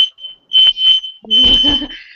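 A dorm smoke alarm set off by cooking sounds in loud, piercing pulses of high-pitched beeping, while voices talk over the last part of it.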